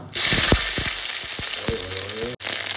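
Fresh ginger hits hot oil in a pan over medium heat for a vegetarian potato curry, giving a steady close sizzle and crackle with a few clinks of stirring, heard alone.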